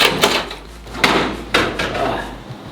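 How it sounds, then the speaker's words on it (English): A hotel room door being unlocked, with several sharp clicks and knocks from the lock and handle, close and loud, a few irregular impacts with faint voices nearby. "Gotta unlock the door."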